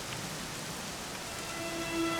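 Steady rain falls in Dragon Quest XI S, a soft, even patter of drops with no voices, while a faint tonal hum rises near the end.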